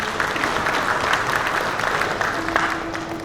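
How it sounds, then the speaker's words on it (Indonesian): Steady applause fills a regional parliament chamber in Bali during a governor's address, a continuous, moderately loud patter of many hands with no voices on top. "Tepuk tangan."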